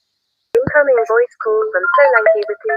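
A mobile phone ringtone plays loud and close, a bright melodic tune of repeated short notes that starts abruptly after a moment of silence and keeps going.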